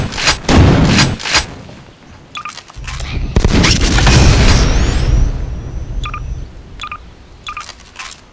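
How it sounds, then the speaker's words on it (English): Gunfire from a super shotgun and other weapons in Garry's Mod, with several sharp blasts and booming reports spaced unevenly, interspersed with short electronic beeps and a spell of loud rumbling. "Super shotgun."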